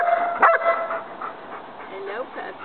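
A puppy's high yips and short barks, one sharp yelp near the start followed by softer whimpering cries, close by with people talking.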